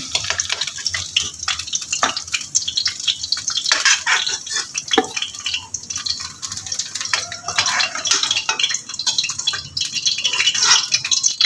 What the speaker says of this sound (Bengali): কপিগুলো ভাজা হয়ে গেছে এবার আমি তুলে নিচ্ছি